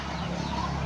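A farmyard hen brooding over her eggs and a rooster cluck together in a rural province yard, a steady close chatter of short clucks filling the whole moment.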